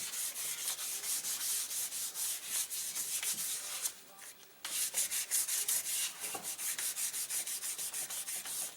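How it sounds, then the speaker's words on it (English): Hand sanding of wood with sandpaper worked with mink oil: steady, rapid back-and-forth rubbing strokes, close and fairly loud, with a brief pause in the middle before the rhythmic scraping resumes. "I'm just going to remove some of the rough edges. And you'll notice there's not a lot of dust coming off here because the mink oil is trapping it in the sandpaper."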